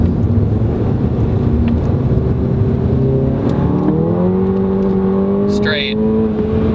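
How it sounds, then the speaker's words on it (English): A 2015 Volkswagen GTI hot hatch accelerating, its engine tone climbing steadily through the gears as someone talks over the top of it. "if you were to take your hands off the wheel and accelerate, it would go straight"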